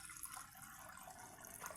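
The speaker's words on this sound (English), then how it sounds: "now that we've brought water, we put in water for ugali" Water poured into a cooking pot to make ugali from maize meal: a soft, steady, faint splashing hiss that runs without a break.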